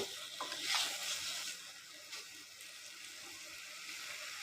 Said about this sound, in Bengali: এখন আলুগুলো দিয়ে আরেকটু কষিয়ে তারপরে ঝোল দিয়ে দেব